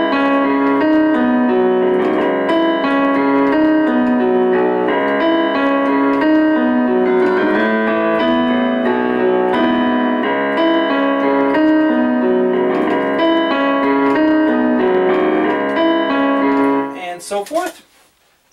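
Solo piano arrangement of a rock ballad, with the melody in the right hand over full chords, playing continuously and loudly before ending abruptly with a short clatter.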